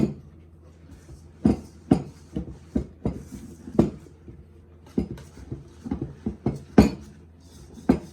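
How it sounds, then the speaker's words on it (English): Flour mixture being whisked in a bowl for molasses ginger bread, giving a series of distinct clinks and taps of the whisk against the bowl, irregular and close, with quiet gaps between strokes. "we are gonna whisk this up"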